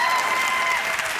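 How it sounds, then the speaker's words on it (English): Studio audience applause during a late-night talk show taping in Los Angeles, a dense steady wash of many hands clapping at once, fairly loud and continuous throughout with no speech over it. "I'm not exactly sure what that applause was for."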